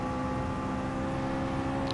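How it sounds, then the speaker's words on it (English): In a racing video game, a car engine drones at a steady high pitch with a constant straining whine. It holds evenly and fairly loud for the whole moment, with no voices over it. "Car's struggling hard."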